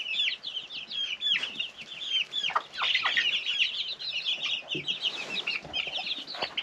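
Farm chickens cluck and squawk continuously and fairly close, many overlapping calls with no pauses, over a faint background.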